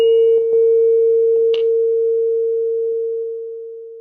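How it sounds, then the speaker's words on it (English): A steady pure hum from a tuning fork mounted on a wooden resonance box, loud and sustained, slowly fading over several seconds after a few light taps at the start. "I'm going to attach the tuning fork to the box like this."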